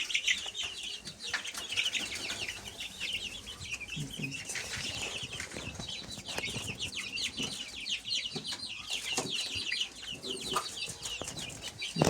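Many newly hatched chicks peep continuously in high, rapid chirps, close by on a warm mat in an incubator cage, a busy overlapping chorus with faint rustling underneath.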